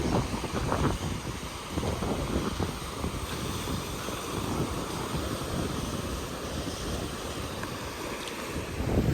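Sea waves wash against a rocky Japanese coastline, a steady broadband roar with continuous surf and gusting wind buffeting the microphone, no voices throughout.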